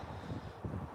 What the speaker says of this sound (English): I'm sorry it's kind of windy, but it's really nice out today.